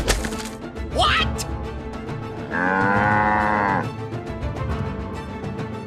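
A single long, loud cow moo in the middle, with a brief sharp squeal before it and outdoor background noise.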